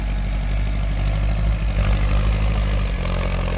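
A Kubota M5000 farm tractor's diesel engine idling nearby, a steady low rumbling throb with even pulses that holds constant throughout, with no voices.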